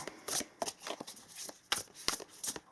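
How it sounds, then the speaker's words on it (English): A deck of tarot cards is shuffled close by, with quick papery riffles and soft slaps repeating in an uneven rhythm, fairly quiet. "Going to shuffle for a little bit, and we're going to pull some cards for you."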